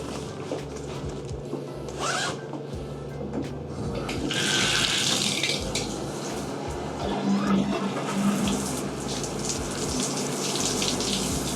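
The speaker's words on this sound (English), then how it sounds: "We're gonna just try running it through the water." Water streams steadily from a tap over a zipped, foldable waterproof travel bag, a continuous splashing wash with occasional crinkling of the fabric and zipper, moderately close.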